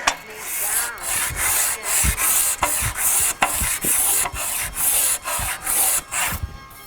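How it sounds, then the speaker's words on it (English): Rhythmic hand sanding of a workpiece held on a Delrin plastic block with 180 grit sandpaper, about a dozen close, even back-and-forth strokes with a bright scratchy rasp. "We're going to hold it on this piece of Delrin plastic, which will hopefully be about the right size, and we will start the very fun process of hand sanding"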